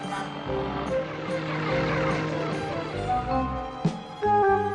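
A cartoon remote-controlled toy helicopter buzzes steadily with a whirring motor drone, loud and close, with a sharp hit near the end.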